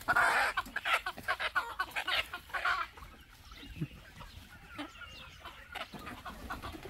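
Chicks cluck repeatedly up close, a busy run of short calls that is loud at first and then thins to scattered softer clucks.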